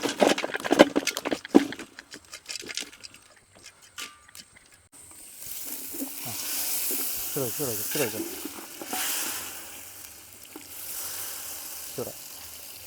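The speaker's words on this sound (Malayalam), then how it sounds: "നമുക്ക് ശർക്കര ഒന്ന് ഉരുക്കിയെടുക്കാം" Jaggery sizzles and bubbles as it melts in a pan, with scraping stirring and clinks of utensils, preceded by a few sharp knocks.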